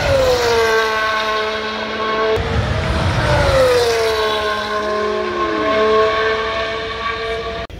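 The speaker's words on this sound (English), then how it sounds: "Before you hear the engine, you hear all the aero, it sounds like a fucking fighter jet." A Formula 1 car rushes past at the Belgian Grand Prix at Spa, loud and close, its whining engine tones sliding down in pitch under a roaring, breathy rush of aero noise.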